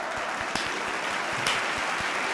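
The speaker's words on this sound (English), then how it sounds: "Round of applause for them. Round of applause." Applause from a stadium crowd at a FC Barcelona vs Valencia La Liga match as substituted players leave the pitch, a steady wash of distant clapping with a few sharper claps, no talk.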